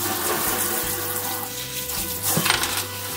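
Tap water runs steadily into a sink while hair extensions are rinsed, with a continuous close splashing hiss and a few small clinks and knocks.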